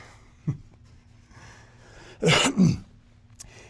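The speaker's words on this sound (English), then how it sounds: "I'm sorry, I coughed on camera." A single loud cough bursts out in two quick harsh pulses, close by, after a faint throat click and quiet room noise.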